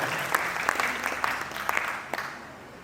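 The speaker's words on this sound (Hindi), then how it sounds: "एक बार तालियां बजाकर इस बात का आश्वासन कीजिएगा।" An audience at a Hindi poetry recital claps steadily for a few seconds, a dense patter of many hands that tapers off toward the end.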